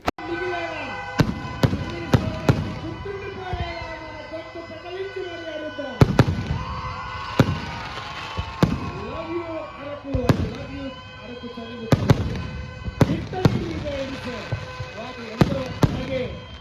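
A fireworks display at the 2025 Araku winter festival, loud repeated bangs and crackling bursts, some in quick clusters, with whistling rising shells and a crowd and voices talking throughout.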